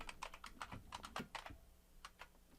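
Close, quiet computer keyboard typing: a quick burst of key clicks, a brief pause, then a few more taps as a folder name is entered.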